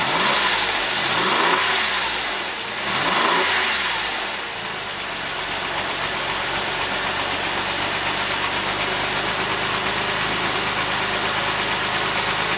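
A Porsche 996 with a 3.6-litre M96 engine runs close by, giving a couple of rising revs in the first few seconds before it settles into a steady, even idle.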